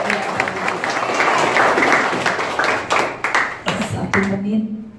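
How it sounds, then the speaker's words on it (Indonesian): An audience at a company award event applauds in a steady wash of clapping. A voice speaks over it, and the applause fades out toward the end. "Sekali lagi dong, tepuk tangan Bapak Ibu."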